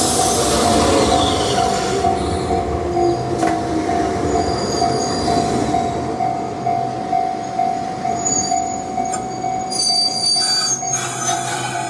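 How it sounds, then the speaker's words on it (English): Enoden train pulling into Koshigoe Station, wheels rumbling and a sustained high squeal from the rails as it slows, with clanks and rattles from the cars, loud and close throughout. "Okay, so the train just stopped."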